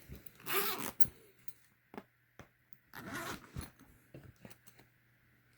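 A bag's zipper is pulled open in several short rasping bursts with pauses between them, close and fairly quiet, with no talking.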